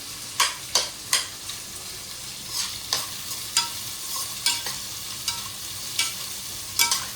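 Onions, about 300 grams for a chicken gravy, sizzle steadily in a pan while a spatula scrapes and stirs them in sharp, regular strokes, close and without talk.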